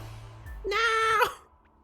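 A person's voice imitating a cat's meow, one short rising-then-falling mew after a soft low hum, close and clear.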